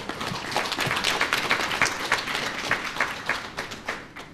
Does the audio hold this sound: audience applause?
yes